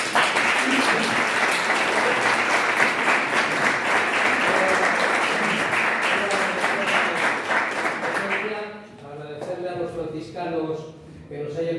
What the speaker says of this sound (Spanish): Yo les pido un aplauso para nosotros.